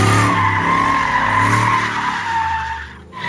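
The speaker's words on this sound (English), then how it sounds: "Ich hab so Angst, wenn ich Reifengeräusch höre." A Ford Mustang's tires squeal in a loud, sustained, close-up screech that holds for a few seconds and fades slightly at the end, with no talking.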